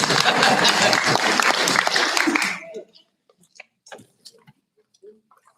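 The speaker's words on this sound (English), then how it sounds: "You can clap." Audience applause at a school board meeting, a dense wash of clapping that runs for about two and a half seconds and then cuts off, leaving scattered faint taps and small noises in a quiet room.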